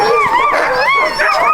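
A sled dog, a lead dog on a dog-sled run near Churchill, yelps and whines in a continuous excited burst, close and loud, with no pauses.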